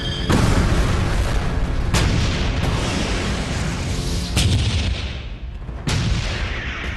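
World War I artillery firing directly at tanks at close quarters: heavy booms and blasts roll in a dense, continuous barrage, with a few sharper detonations standing out over the roar.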